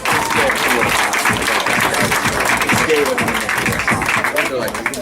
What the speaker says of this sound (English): Let's get a round of applause for our catwalk here.